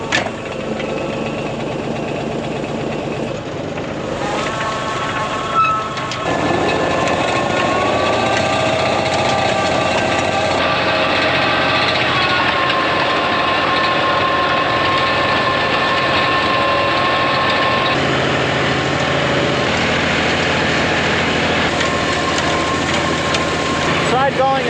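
A tractor engine pulling a hay tedder at a higher gear drones steadily at a constant pitch, close and loud, with a slight shift in tone partway through and no pauses.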